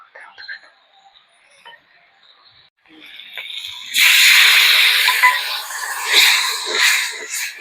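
Water is poured into a pan of low-oil frying curry and bursts into a loud, broad hissing sizzle that pulses and persists, following a quieter stretch of faint kitchen sounds.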